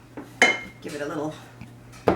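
Thick almond bread batter in a pan is tapped against a counter, giving a few distinct metallic knocks and rattles at close range with short gaps between them.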